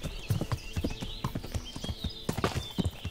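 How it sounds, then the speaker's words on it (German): Horse hooves clip-clopping at a steady trot during riding in the medieval game Kingdom Come: Deliverance, rhythmic, close, with faint background ambience. "Ein Pferd ist natürlich eine Riesenbereicherung"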